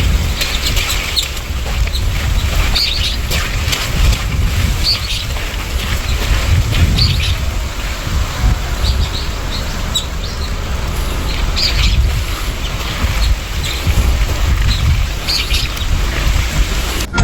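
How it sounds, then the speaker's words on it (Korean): Birds chirp and call repeatedly over a steady patter of rain in a rural Jeju folk village with thatched-roof houses, the rain hiss constant and the birdsong coming in short bright bursts. "새소리 좀 들어봐봐. 너무 좋아."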